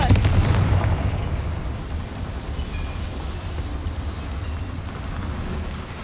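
A Confringo blasting spell in Hogwarts Legacy, one loud booming explosion at the start that fades into a rumbling, crackling decay, with no voices.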